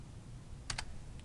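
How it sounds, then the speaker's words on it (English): A short double clack of keys on a computer keyboard, with a faint extra tap just after, heard close and alone during spreadsheet work in Excel. "I'm typing, I can never type."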